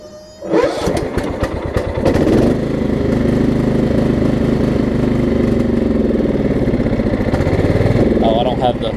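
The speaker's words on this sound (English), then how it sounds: "The mower is surging just a tiny bit, but only once it gets about 1/4 of a tank" Kohler engine on a Craftsman riding mower starts up and runs steadily and loudly up close, with a faint surge in its drone and a clatter near the end.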